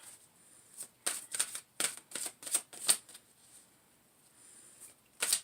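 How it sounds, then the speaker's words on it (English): An oracle card deck is shuffled by hand in a series of quick crisp riffling bursts, close and fairly soft, with short pauses between them and no talking. "I'm going to pull one card from the Lightworkers Oracle for feminine energies for December 2018"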